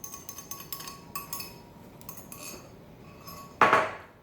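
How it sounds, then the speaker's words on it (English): Milk is whisked in a liquid measuring cup for biscuits, giving rapid metallic clinking and tapping against the cup, close and moderately loud, ending in one sharper clang. "pour in milk, or any type of milk you want, up to the 2-cup mark. All right, that's what I meant. And you're going to whisk it."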